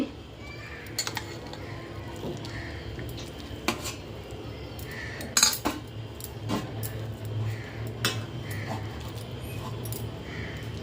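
Metal spoon scraping and clinking against a plate while rice is served at home, a run of sharp, close taps and scrapes over a steady low hum, with a dog barking faintly now and then.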